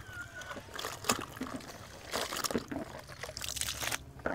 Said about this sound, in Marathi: ते पाणी देऊ ओतून